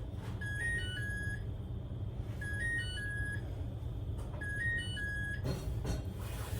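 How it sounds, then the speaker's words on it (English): A kitchen timer beeps while bread bakes in a home kitchen, sounding three clusters of short electronic tones at a steady pace over a low background hum, with no talking. "Can you hear my timer?"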